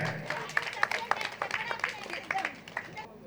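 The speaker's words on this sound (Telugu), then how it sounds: "గట్టి క్లాప్స్ అండి ఒకసారి" An audience at a meditation gathering applauds. Dense, rapid handclaps blend into a lively patter that holds steady for a few seconds before cutting off.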